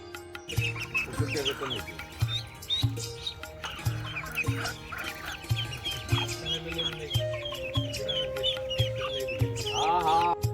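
Chickens clucking in a village farmyard, a steady run of short rhythmic clucks and a few higher chirps and calls, close and continuous over light background noise.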